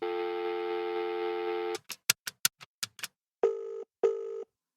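A telephone in a phone box is dialled as a radio drama effect: a steady dial tone, then a quick series of sharp clicks from the dial, followed by two separate ringing tones.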